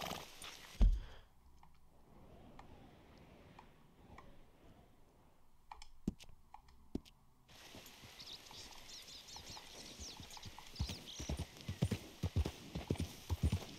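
Hooves clip-clopping on hard ground in the video game Red Dead Redemption 2, a steady close walking rhythm growing busier toward the end, with a soft thud and faint clicks earlier.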